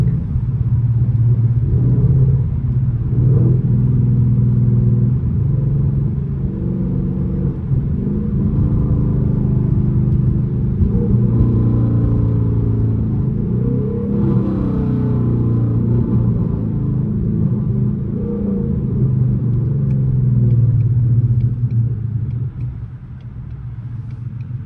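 A 2018 Ford Mustang GT running on E85 drives through a winter storm. A steady, loud low engine rumble and road roar continue throughout, with mild swells in revs, and no one speaks.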